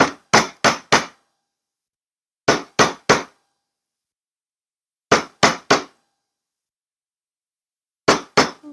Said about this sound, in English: with a chasing hammer, and we're going to paddle out each end